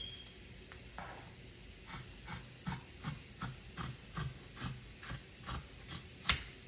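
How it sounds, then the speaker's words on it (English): Scissors cut through fabric along a marked dotted line to shape the neckline of a sleeveless shirt, producing a quiet, rhythmic series of rasping snips ending in a sharper click. "we're going to cut that dotted line out, and that would be our neckline"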